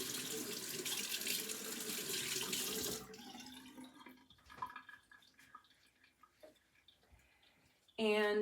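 A copper-alloy Kansa face-massage wand is rinsed under a running tap. Loud, close splashing water pours for about three seconds, then stops, leaving faint drips and handling sounds, and a voice comes in at the very end.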